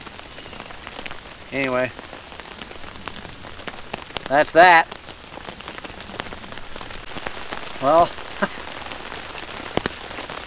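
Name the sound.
rain falling on a tent while camping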